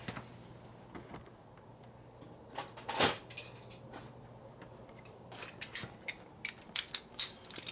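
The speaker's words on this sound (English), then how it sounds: "I'll go ahead and tighten these all the way down now." Bolts being tightened with a ratchet on a 1965 Harley-Davidson 74ci FLH panhead motor during a rebuild, a quiet workshop with scattered metallic clicks and taps, one sharper clank, and a cluster of ratcheting ticks near the end.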